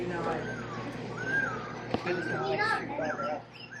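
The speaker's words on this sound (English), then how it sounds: "even the noise that you hear, if you hear those birds chirping in the background." Bright bird chirps and warbling calls, played from a speaker in a reptile terrarium at an exotic reptile and plant shop, repeat over a steady background hum, with faint chatter mixed in throughout.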